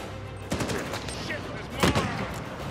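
Gunfire from the video game Uncharted 4 comes in two dense bursts of rapid shots, loud and close, with a voice talking over the game sound.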